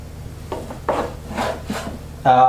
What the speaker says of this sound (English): I'm going to cut up this bacon